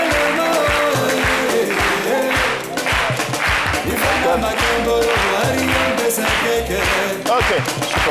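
A crowd claps steadily and loudly as a Zouglou band takes the stage, the rhythmic clapping blending with music and scattered voices.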